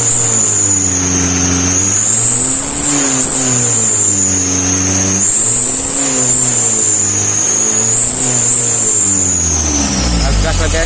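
A tuned Mitsubishi L300 engine revving hard, loud and close, its pitch swelling and falling in repeated surges with a high whine on top, while someone talks throughout.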